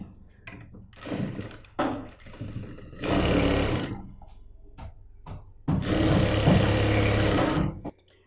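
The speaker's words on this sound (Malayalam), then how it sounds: "കറക്റ്റ് ഞാൻ 1 ഇഞ്ചിൽ ഇതുപോലെ മടക്കിയിട്ട് സ്റ്റിച്ച് ചെയ്യാൻ പോവുകയാണ്" An electric sewing machine stitches a folded one-inch hem on a churidar bottom, with two loud, sustained runs of whirring motor and needle separated by brief handling noises and pauses.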